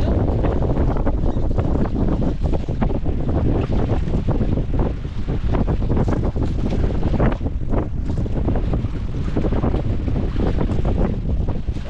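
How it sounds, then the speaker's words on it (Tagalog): Strong wind roars outdoors near the sea, buffeting the microphone in a loud, continuous rumble that covers the whole stretch, with no clear talking. "grabe hangin talaga"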